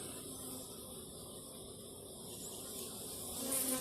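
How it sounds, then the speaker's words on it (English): A bee swarm moving into swarm-catching equipment outdoors: a continuous low buzzing hum of many insects, steady and moderately faint, swelling slightly near the end, with no voices. "Looks like a swarm moving into one of my pieces of equipment for chasing swarms"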